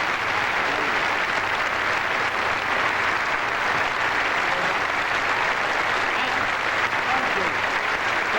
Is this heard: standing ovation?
yes